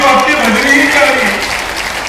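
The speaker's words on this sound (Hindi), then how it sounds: "जरा जोरदार ताली तो आपकी बजनी ही चाहिए।" A crowd at a stadium event applauding, a dense continuous wash of clapping heard loudly throughout while a voice speaks over it.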